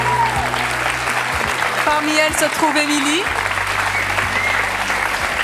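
Studio audience applause on a French television talk show, a sustained dense clapping bed under someone speaking and brief background music.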